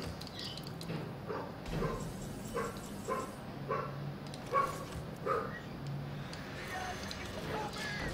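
A small dog yaps in a repeated series of short, fairly sharp barks in the background of an indoor room, while someone talks over them.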